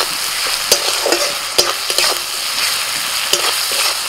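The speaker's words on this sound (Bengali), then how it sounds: "পেঁয়াজ ভাজা হয়ে গেছে" Chopped onions salted in hot oil crackle and sizzle steadily in a pan, with sharp scraping knocks of a spoon stirring them at irregular intervals; no voices.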